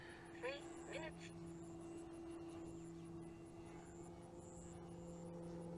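An Extreme Flight 78-inch Edge 540T RC airplane holds a knife-edge pass overhead, its engine a steady distant drone that swells and shifts gently throughout, with a few faint chirps and background noise and no talk.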